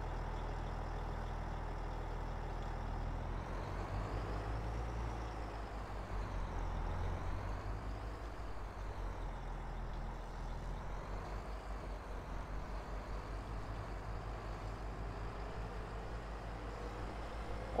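A Scania truck mod in Farming Simulator 22 idles with a steady low diesel rumble, its pitch slowly rising and falling as the engine revs gently. The rumble is continuous and close, with no talk over it.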